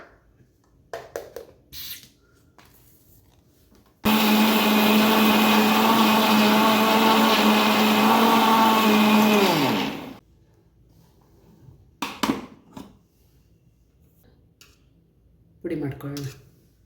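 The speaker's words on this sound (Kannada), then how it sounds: "ಮಿಕ್ಸಿ ಜಾರಿಗೆ ಸಕ್ಕರೆ ಮತ್ತು ಏಲಕ್ಕಿನ ಹಾಕ್ಕೊಂಡು" A mixer grinder whirs loudly for about six seconds while powdering sugar and cardamom, then winds down, with brief handling clatter and knocks before and after.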